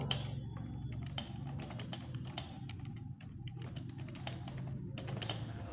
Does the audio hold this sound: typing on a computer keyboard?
yes